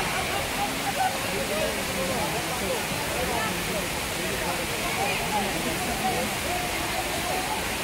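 Steady waterfall roar, a continuous broadband rush of flowing water at a constant level with no pauses, heard at an outdoor falls.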